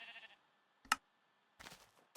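Sheep bleating in Minecraft: Pocket Edition Lite, a few short, clear in-game bleats separated by silence, near and fairly quiet with no other sounds.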